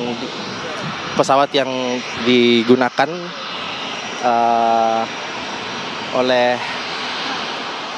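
Aircraft carrying the flag and proclamation text delegation approaching to land at an airport, a steady engine roar running throughout beneath a voice speaking in Indonesian.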